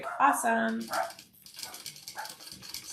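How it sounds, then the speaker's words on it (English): Several dogs bark and yip in quick, sharp bursts close by, mixed with a person talking over them. "Sorry for the barking dogs."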